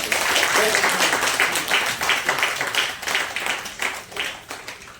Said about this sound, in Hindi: एक बार ताली बजाइए देवमोहन सर।